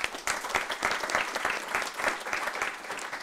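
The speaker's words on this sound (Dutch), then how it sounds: "Mag ik een warm applaus voor Romy Goedeke." Warm applause from an audience at a Dutch climate event greets a speaker from a nature conservation organisation, close and lively with distinct individual claps throughout.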